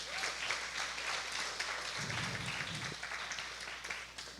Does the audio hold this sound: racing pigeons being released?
no